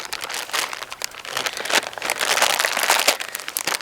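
A plastic bag crinkles and rustles continuously up close as game is held in it, a dense, crackly handling noise with no pauses.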